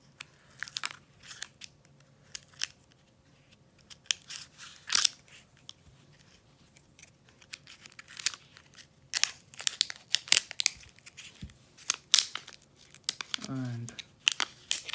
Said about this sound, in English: So let's cut this cover and see that what is inside this one